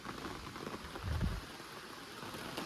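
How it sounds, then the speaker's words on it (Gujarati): Heavy monsoon rain in Surat falls as a steady, dense hiss of drops on surfaces, broken by one brief low rumble, with no voices. "એટલો વરસાદ આવે"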